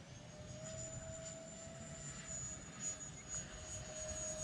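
An E-flite A-10 64mm electric ducted-fan RC jet flying, a faint, distant steady whine with a slight rise and fall as it passes overhead.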